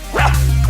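A cute puppy gives a single short yappy bark, close and clear, followed by a brief whimpering tail.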